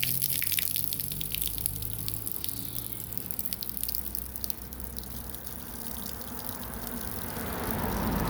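Water runs from a pipe in a thin, splashing trickle with scattered drips, steady at close range with a low background rumble, slightly swelling toward the end.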